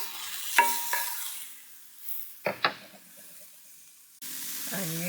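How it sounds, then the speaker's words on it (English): Mushrooms sautéing in a pan, a soft continuous sizzle broken by a few knocks of a utensil stirring and scraping, with a brief voice near the end. "I am sauteing some mushrooms."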